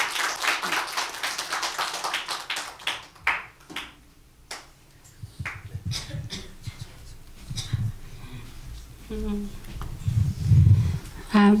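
A church congregation at a New Year's Eve service applauds in a dense burst of clapping for a few seconds, which thins to scattered taps before a voice begins speaking over a quieter room.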